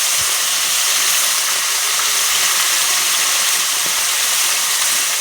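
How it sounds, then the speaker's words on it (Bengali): A continuous loud sizzling hiss, steady and close, of fish frying a few pieces at a time in hot oil, with no voices. "তেল গরম হয়ে গেছে বন্ধুরা, এখন আমি মাছগুলো একে একে দিয়ে দেব।"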